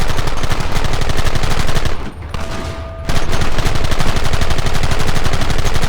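Dense, continuous gunfire in the Red Dead Redemption video game, loud rapid machine-gun bursts and volleys that drop out briefly for about a second before resuming at full intensity.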